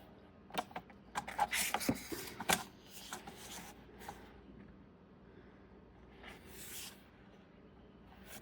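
Scissors snip and rustle through a paper collage strip for a journal, with a dense burst of crisp cuts and crinkles early on followed by sparser, softer paper handling.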